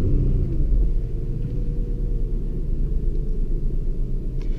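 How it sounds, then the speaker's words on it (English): A 2017 Nissan GT-R's engine starts and settles into a deep, steady idle rumble, heard from inside the car, loud and continuous with no talking. "I'll just start it up and we can get this touchscreen going."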